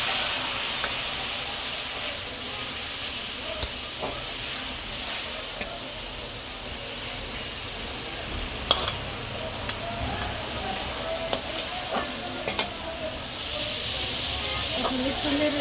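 Spice paste of turmeric, chili powder, coriander powder, salt and ground cumin sizzles steadily in hot oil with fried potatoes, a loud continuous hiss with occasional clicks and pops, close by; a voice speaks faintly at times.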